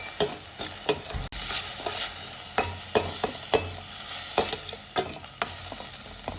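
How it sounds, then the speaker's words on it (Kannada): Ginger garlic paste for gobi manchurian fries in a pan with a steady sizzle, while a spoon stirs and scrapes in repeated sharp strokes every half second or so, heard up close without any talking. "ಎಲ್ಲದನ್ನು ಹಾಕೊಂಡು ಚೆನ್ನಾಗಿ ಫ್ರೈ ಮಾಡ್ಕೊಬೇಕು"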